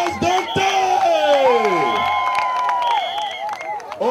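Loud rally crowd in support of Laurent Gbagbo in The Hague, with cheering, shouting and clapping close up, voices rising in sustained cries over continuous applause.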